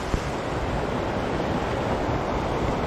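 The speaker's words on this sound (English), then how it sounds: "and the water flow is coming right down" Water pouring from a high mountain lake through a small man-made rock tunnel below a rock dam along the Big Pine Creek trail, a steady broadband rushing roar with wind buffeting the microphone.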